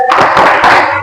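A group clapping together in a short, loud, rhythmic burst, close by, with voices mixed in.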